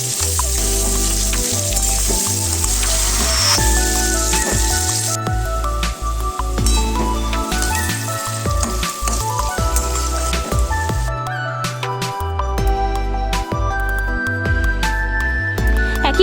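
Carrot pieces frying in hot oil for a vegetable korma-style curry, giving a steady, dense crackling sizzle that runs continuously and fairly loud throughout with no talking.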